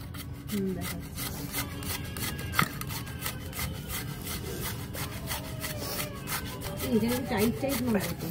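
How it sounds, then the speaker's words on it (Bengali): Papaya being grated by hand for momo filling, a steady rasping scrape repeating throughout, with people talking over it in a busy home kitchen. "পেঁপের মোমোর জন্য পেঁপেটাকে ভালো করে গ্রেট করে নিতে হবে"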